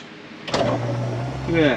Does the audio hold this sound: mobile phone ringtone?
no